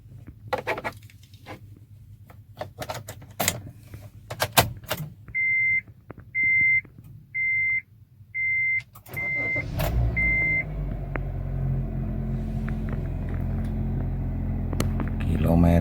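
A 2017 Honda Mobilio E CVT is switched on: six evenly spaced electronic chimes ring out, then the engine cranks and catches into a steady low idle rumble, close up inside the car.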